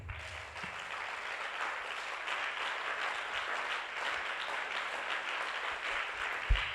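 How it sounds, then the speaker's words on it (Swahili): A church congregation clapping in a fellowship service, dense sustained applause from many hands filling the room evenly, with no talk. "Mpe Yesu makofi."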